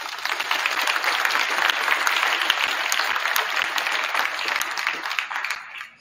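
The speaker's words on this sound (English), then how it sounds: "give these people a round of applause" A gym audience at a high school boys' varsity volleyball event gives student athletes a loud round of dense, steady applause that fades out at the end.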